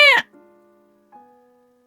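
A pet cat gives one short, bright meow up close, followed by a faint ringing tone that fades into quiet.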